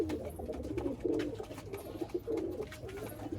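Madras pigeons coo repeatedly in a loft, low throaty phrases rising and falling close by, with steady coos overlapping in an uneven rhythm.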